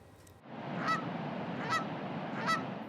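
Geese honk three times in a loud, evenly spaced series close by, each call a sharp nasal blast over a rumbling outdoor background.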